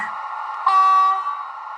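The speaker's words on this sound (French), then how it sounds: "Donc, klaxon aigu." High-pitched train horn sounds from a model train control's F2 function key, a single steady toot starting partway through and holding about half a second, loud and alone over a constant background hum.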